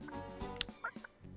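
Chickens cluck in the video game Super Lucky's Tale: a short, faint flurry of bird calls with a few quick squawks.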